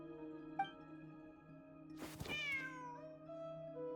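A cat meows in the video game Genshin Impact, a single short mew rising over a steady musical drone and game ambience at moderate level.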